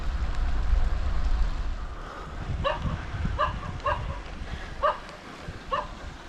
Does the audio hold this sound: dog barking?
yes